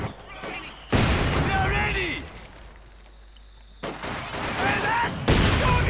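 Machine gun fire in the real-time strategy game Company of Heroes 2 rattles in dense, loud bursts with a brief lull in between, under an excited commentator's talk.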